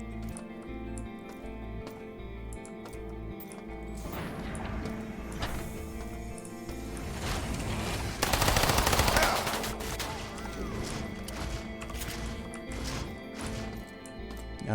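A Scorpion gun fires in the System Shock Remaster video game, sending out a dense burst of rapid shots with a loud crash midway, over a humming, mechanical game background.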